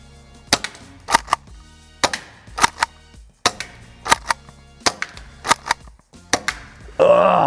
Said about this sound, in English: So let's give some buckshot a try.